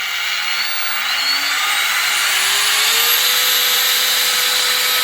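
A Stark AG 20000B brushless angle grinder whirs steadily at close range, its pitch gradually rising as it spins up to a smooth, high whine.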